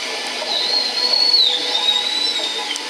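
A high, sustained underwater orca whistle glides slightly up and down for a few seconds over a soft hissing background.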